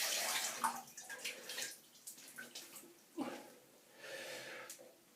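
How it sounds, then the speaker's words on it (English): Close splashing and sloshing of water as a face is rinsed after a shave, in uneven bursts with wet handfuls and breathy snorts, no talking. "I'm just going to rinse my face really well."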